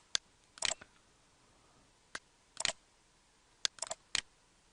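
Computer mouse clicks sound sharp and close in a quiet room while a schematic is drawn in KiCad, coming singly and in quick clusters of two or three.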